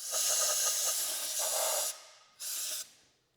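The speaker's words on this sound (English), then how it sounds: "Just use a blowgun." An air blowgun blasts out brake rotor bolt holes on a Yamaha R7, heard as a long close hissing burst followed by a second, shorter one, alone with no talk.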